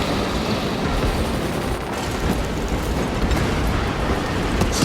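Big bomb explosion in the video game Space Marine 2, a loud, sustained rumbling roar with crackling debris that carries on throughout, dense and close, with no talk.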